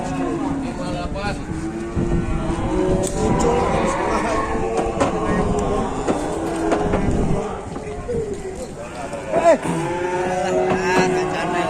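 Cattle at a livestock market where animals arrive for slaughter: loud nearby moos and lowing rise over a busy background of people talking and engine noise.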